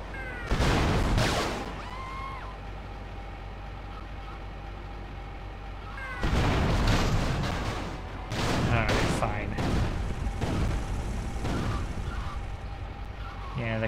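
Heavy tank cannon blasts from GTA Liberty City Stories boom out in loud bursts, one early and a cluster later, over a steady mechanical hum.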